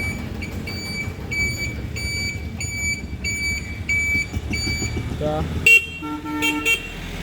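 Honda CD 80 motorcycle horn sounding in a few short bursts near the end, after a long stretch of repeated electronic beeping over engine idle and road noise.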